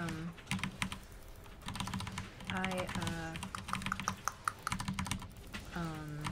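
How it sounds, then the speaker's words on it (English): A computer keyboard clatters with fast, busy typing during a World of Warcraft raid, with dense clicks running under a voice and game sounds throughout. "If you guys can hear my keyboard"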